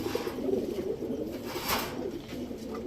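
Pigeons coo softly in a steady low murmur, with a silver male pigeon among them; the sound is continuous and fairly close, with no talking.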